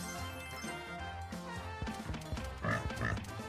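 A cartoon pig oinks in the Eternal Phoenix Megaways slot game, with a short grunting snort over jingling slot music and chiming effects.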